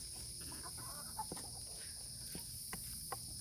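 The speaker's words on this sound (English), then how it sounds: "I hear the cicadas in the background" Cicadas keep up a faint, steady, high buzzing drone in the background of a backyard garden with chickens, broken only by a few soft clicks and small rustles.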